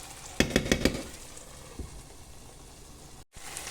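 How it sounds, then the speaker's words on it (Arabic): Tomatoes and ingredients frying in a pan for a Tunisian merguez omelette, a steady soft sizzle with a few brief utensil clatters near the start. "ونخليهم دوب ما يتقليو شوية"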